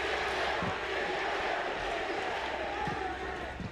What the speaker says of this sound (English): The roar of the crowd behind them.